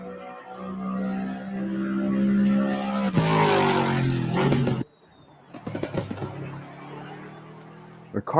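Race car engine in a sim racing game, loud and sustained with rising revs, a sharp cut near the middle, then quieter revving bursts, while someone talks over it.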